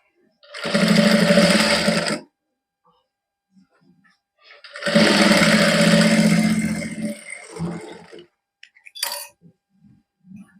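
An electric sewing machine runs in two bursts, about one and a half and three seconds long, stitching lace onto lining for a sweetheart neckline, a close, fast whirring hum, followed by faint clicks.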